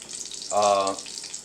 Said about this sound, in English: I'm just gonna fry both sides 3-4 minutes until it's brown.